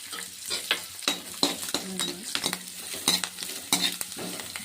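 Cumin seeds and garlic fry in a hot pan, a steady crackling sizzle broken by repeated scraping stirs of a spatula, close and fairly loud, with no talking.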